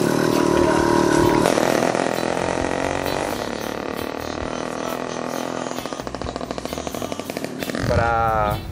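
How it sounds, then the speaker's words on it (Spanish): A small gasoline engine on a motorized bicycle catches and runs with a loud, buzzing two-stroke rattle. The engine note wavers and sputters, then revs up near the end. "el motor empieza a pistonear y cuando agarra la nafta necesaria para el encendido, se arranca"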